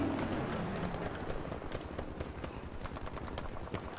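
Gunfire in the video game Battlefield V, a rapid, steady stream of shots in a dense, loud battle din, with nearby automatic fire rattling over continuous background noise.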